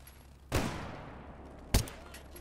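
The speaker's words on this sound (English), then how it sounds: "Tis a shotgun. Must be a bandit." Two loud shotgun blasts about a second apart in the video game S.T.A.L.K.E.R. GAMMA, each a sharp crack trailing into a decaying echo over a low background hum.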